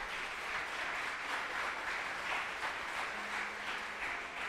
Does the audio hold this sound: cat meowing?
no